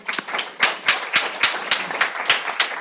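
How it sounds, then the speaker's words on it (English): A small audience at a startup pitch night claps for a presenter, a sparse rhythmic round of distinct hand claps, fairly close and steady, with no voices over it. "Give him a round of applause."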